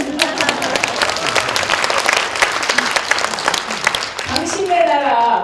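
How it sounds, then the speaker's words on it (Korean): Audience applause at a women entrepreneurs' New Year gathering in Korea, a dense, steady wash of many hands clapping throughout, with voices faintly mixed in near the end. "박수 치시면"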